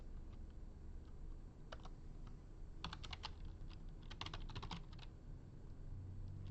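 Steady keyboard typing while entering Excel table headers for an ITQ spreadsheet exercise, with fast runs of clustered key clicks over a low background hum and no talking.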